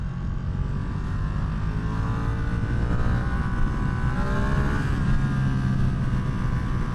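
A high-revving engine held around 8,000 RPM with the power dipping and stuttering gives a loud, close, continuous roar with a slight wavering pitch, and no voices.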